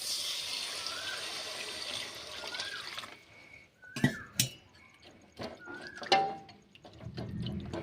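A steady stream of water runs and splashes into a cooking pan, followed by a few clinks and knocks of utensils, with no talking.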